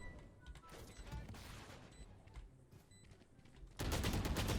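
Gunfire in a shooter video game, with rapid bursts of shots and clatter that are faint and distant at first, then a loud, dense burst close up at the end.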